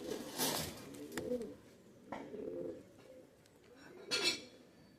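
Pakistani high-flyer pigeons coo softly in low, throaty bursts close by, with a few faint clinks between the calls in a quiet space.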